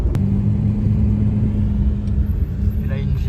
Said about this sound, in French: Et là, une GT3 qui était là pour le track day. Je sais pas ce que c'est, ça doit être une 650S.